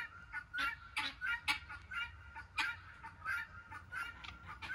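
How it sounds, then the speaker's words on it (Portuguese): Guinea fowl and other farm poultry give repeated harsh, honking calls in irregular bursts, mid-distance and fairly clear, with no one talking. "Olha lá as galinhas da Angola, onde é que estão."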